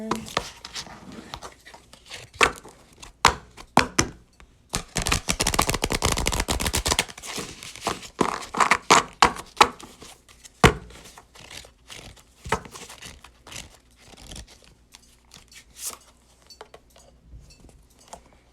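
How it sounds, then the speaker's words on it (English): Tarot cards being shuffled by hand, a dense burst of rapid papery riffling and slapping in the middle, with scattered crisp card flicks and taps before and after, close and fairly loud, no talking. "Shuffle the deck one more time."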